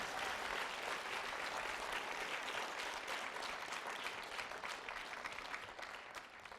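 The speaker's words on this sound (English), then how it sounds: "Keep applauding." Audience applause at a reading program event as panelists make their way to the podium, a dense, steady wash of many hands clapping that carries on throughout and fades only slightly toward the end.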